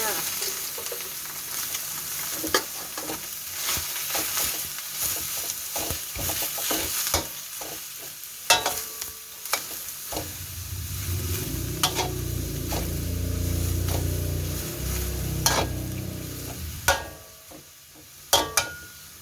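Vegetables and egg are stir-fried in a pan for dry pork suki, with a steady sizzle, scraping stir strokes and sharp utensil clacks against the pan throughout, and a louder, fuller sizzle swelling midway.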